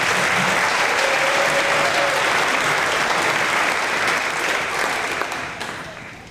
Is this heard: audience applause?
yes